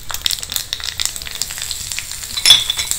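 Curry leaves and asafoetida crackle and sizzle in hot tempering oil, a steady close frying hiss with small pops throughout and a brief louder burst near the end, with no voices.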